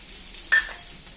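Onion frying in a pan with ginger, garlic and cumin for misal pav, a soft steady sizzle with a brief louder stir-scrape near the middle.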